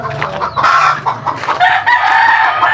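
Backyard pet chickens cluck steadily and close by, with a rooster's crow rising over the flock.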